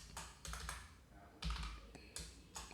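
Soft, quick clicks of a computer keyboard come in short irregular bursts as someone types code, close and quiet with no talking.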